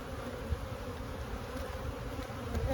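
Honeybees buzz throughout a hive inspection, a dense, steady hum from many insects close by with no talk over it.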